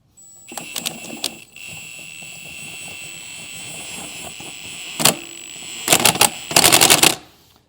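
A socket tool tightens a lug nut on a car wheel during a DIY tire rotation: a steady high electric whine with bursts of sharp ratcheting clatter, loud and close.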